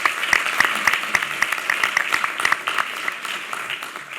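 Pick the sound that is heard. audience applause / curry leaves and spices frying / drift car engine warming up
audience applause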